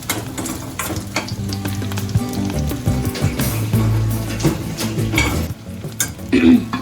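Dried prawns fry in hot oil for an Andhra-style gongura curry, a busy crackling sizzle with stirring scrapes and occasional utensil knocks against the pan, close and continuous.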